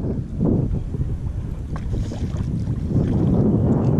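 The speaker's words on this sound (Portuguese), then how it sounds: "Na ventania, velho. Agora vamos virar de frente pro vento." Strong wind blows outdoors during fly fishing for traíra, a loud continuous rumbling buffet against the microphone that swells and dips without a break.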